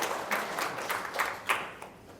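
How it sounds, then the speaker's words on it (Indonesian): Audience clapping at an Indonesian company testimonial gathering, a scattered round of hand claps with uneven rhythm that comes in a few swelling bursts, moderately close and without talk. "Wow, tepuk tangan dong"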